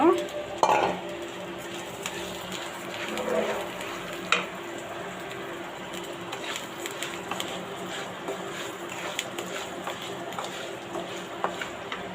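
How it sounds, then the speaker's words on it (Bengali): Rice being fried in a pan for pulao, with a soft sizzle beneath repeated scraping and stirring clinks of a spoon against the pan, louder at the start and then steady. "চালটা ভেজে নেব"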